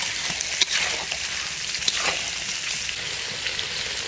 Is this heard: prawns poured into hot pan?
yes